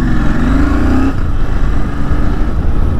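A Royal Enfield Continental GT 650 motorcycle pulls away in first gear with a loud, steady engine drone that rises briefly before settling, heard close with strong wind rumble and no talk.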